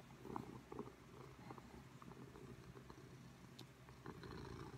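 A cat purrs steadily and close up, a continuous low rumbling hum with faint rustling and light handling noises throughout.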